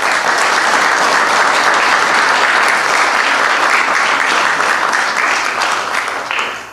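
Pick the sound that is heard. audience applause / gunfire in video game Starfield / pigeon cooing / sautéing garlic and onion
audience applause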